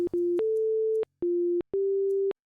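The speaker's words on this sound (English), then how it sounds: "Like, it's just a plain sine wave, but it still sounds odd, doesn't it?" A plain sine tone played back at an 8 kHz sample rate sounds thin and phone-like, coming as a short series of steady beeps at two slightly different pitches with brief gaps between them, clean and close.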